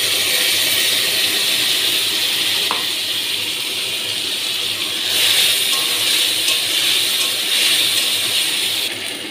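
Onion and ginger paste sizzling in hot oil with fried potatoes, a steady loud hiss that swells slightly midway, no talking.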